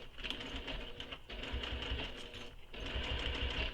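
A sewing machine stitches the seam of a circular bag, its motor whirring in a close, continuous run with two brief pauses between bursts.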